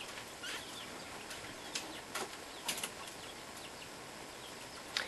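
Kakariki parrots bathe and splash, with quick, close bursts of fluttering wing flaps scattered over a soft wet background hiss.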